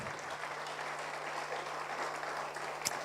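Sustained applause from a church congregation, many hands clapping evenly at moderate loudness over a steady low electrical hum, with one sharper clap near the end.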